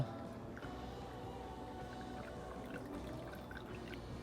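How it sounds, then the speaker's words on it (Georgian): Liquid poured slowly into a vessel, a faint continuous trickling with small splashy ticks scattered through a few seconds, quiet and close. "ჩავასხათ ნელ-ნელა ჩავასხათ"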